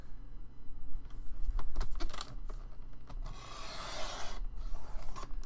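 Paper being cut for a hinged-spine junk journal, a crisp rasping slice swelling near the end amid scattered small rustles and handling noises, close up with no talk.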